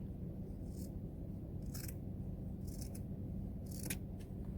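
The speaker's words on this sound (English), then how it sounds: "Cut off the round edges." Scissors snip the round edges off a folded square of material for a homemade mask, giving several crisp, close cuts at irregular intervals over a steady low background hum.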